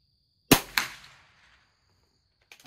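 A .22 LR Christensen Arms rifle fires during tournament target shooting, with two sharp, close cracks in quick succession fading into a short ringing tail, then a quieter pair of clicks near the end.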